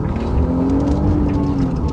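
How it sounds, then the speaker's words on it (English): A blue car pulls out of a parking lot with a steady, moderately loud engine hum and tyre rumble, no voices. "Blue car leaves the parking lot."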